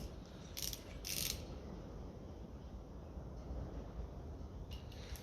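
A ratchet clicks while tightening a bolt on a 1957 Ferguson FE35 TVO tractor, with two short bursts of quick ratcheting early on and a few faint clicks near the end over a low steady background.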